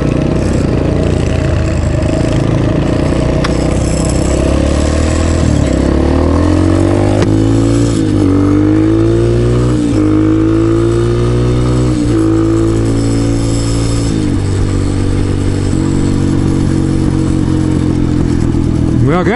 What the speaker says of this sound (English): my adventure bike of the day is the CRF 230